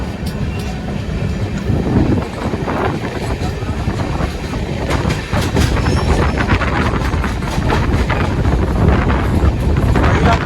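Passenger train on the Porbandar to Thiruvananthapuram route, running toward Mumbai, heard from inside a carriage with steady rumbling, rhythmic wheel clatter and wind noise at loud volume.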